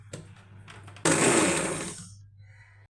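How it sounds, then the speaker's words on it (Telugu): Kitchen mixer grinder blending cooked gongura leaves in a single short pulse, a loud whirring burst lasting about a second after a few light clicks, then fading out. "ముందుగా మనం మగ్గించుకున్న గోంగూరను వేసి పల్స్ మోడ్లో ఒకసారి మిక్సీ చేసుకోవాలి"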